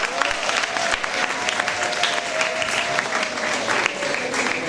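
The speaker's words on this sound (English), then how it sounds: "How about a round of applause for Elizabeth?" Students at an Elizabeth school environmental day event break into a round of applause, a loud, sustained crowd clapping that holds steady throughout with faint voices mixed in.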